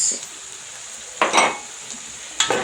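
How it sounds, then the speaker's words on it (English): Vegetable rice with green peas and green capsicum being stirred in a pot, a low sizzle throughout with two louder scraping strokes of the spoon against the metal. "And then stir. Stir it very well."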